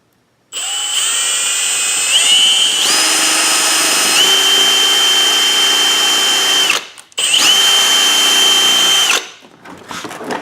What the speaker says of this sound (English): So scored my first hole, and I'll go ahead and drill the rest of these